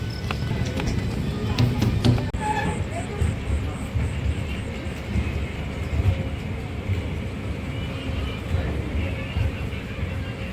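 A train with new LHB coaches pulls out of Nadikudi Junction, a steady low rumble and rattle of wheels and coaches heard from on board, with a few sharp metallic clanks early and a broad hiss running throughout.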